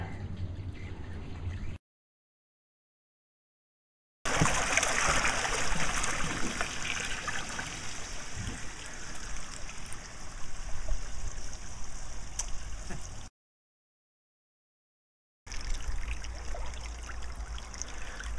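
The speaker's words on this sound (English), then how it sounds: "water on top of the pipe and how it swirls there" Water swirling and flowing down through a pipe, a steady close rushing trickle that cuts out twice into silence before resuming.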